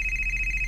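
A cellphone rings with a steady electronic tone that pulses softly and continuously through the brief moment.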